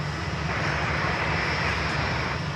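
Copa Airlines Boeing 737-800 airliner on approach, a steady, loud jet engine roar with broad rushing noise and a low rumble, continuous throughout without voices.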